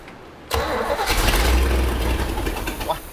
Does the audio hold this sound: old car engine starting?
yes